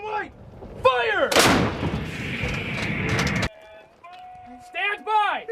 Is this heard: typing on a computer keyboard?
no